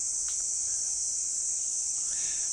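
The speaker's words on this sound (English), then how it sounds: "The noise you can hear is some bugs, is insect of some sort." Crickets and other insects chirp at a temple near Siem Reap, Cambodia: a steady, high, shrill drone that carries on without pause, with a few brief brighter chirps standing out.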